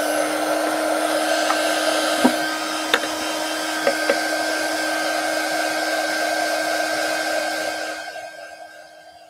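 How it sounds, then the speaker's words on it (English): A heat tool blows hot air over a steampunk collage box, a steady close whooshing hum with a few small clicks, holding for several seconds before trailing off at the end. "Let's hit it with the heat tool."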